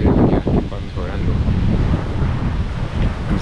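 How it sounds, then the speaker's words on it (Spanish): Strong gusty wind blowing by a calm sea during a norte storm, roaring as heavy rumbling buffets across the microphone with a broad steady rush beneath, loud and close throughout. "sí todavía está el vientecito"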